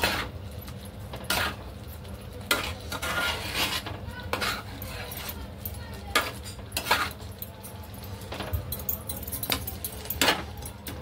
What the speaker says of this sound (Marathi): आता याच्यामध्ये टाकूया आपण एक चिकनचे पीस, जे मगाशी बटर चिकनवर आपण तळून घेतले तेलावर. छान मिक्स करूया.